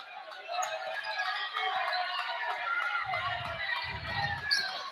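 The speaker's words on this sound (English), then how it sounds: "Crowd getting on their feet, starting to cheer." Basketball crowd in a gym rising to its feet and cheering, a steady broad roar of voices and shouts with low thuds of stomping near the end, under a commentator's talk.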